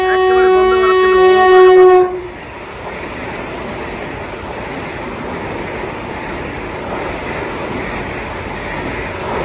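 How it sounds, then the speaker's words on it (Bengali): A Vande Bharat Express train passes the Samsi rail gate in Malda, opening with a loud, sustained horn blast, then a close, continuous roar and rumble of wheels on the rails as the train rushes by. "এই রাস্তা দিয়েই কিন্তু বন্দে ভারত এক্সপ্রেস ক্রস করবে"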